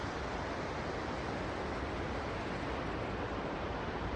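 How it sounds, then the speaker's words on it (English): A waterfall near a glacial river roars steadily and evenly, a dense broadband rush of falling water with no breaks, heard from a moderate distance. "The waterfall"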